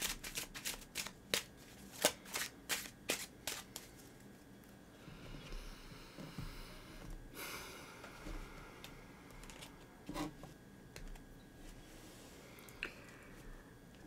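A run of sharp, rhythmic tarot card snaps at the start, then softer continuous shuffling and sliding of cards, close and fairly quiet, no talking.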